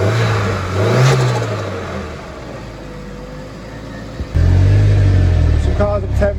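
Ford Escort RS2000 turbo engine cranking and catching on a freezing cold day, settling into a steady, fairly loud idle with a brief rev, running close by.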